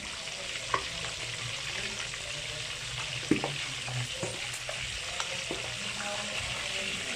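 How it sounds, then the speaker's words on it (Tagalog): Pork belly for lechon kawali frying in hot oil, giving a continuous dense sizzle with scattered sharp pops and spatters throughout. "Ay, ingat-ingat sa mantika, init kayo. Buto-buto mantika."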